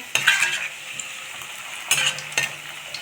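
Paneer jamun frying in a pan of hot oil, a steady bright sizzle with two louder surges as the pieces are stirred or turned, close and without talk.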